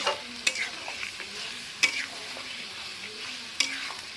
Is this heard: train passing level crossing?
no